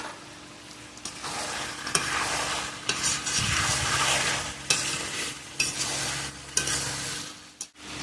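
Masala sizzling steadily in oil for posto chicken, with a spatula stirring and scraping the pan at regular intervals, close and fairly loud, no voices.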